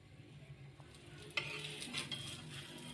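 A gobi aloo paratha cooking on a tawa griddle, a soft quiet sizzle with a couple of light scraping touches partway through, close and faint, no talking.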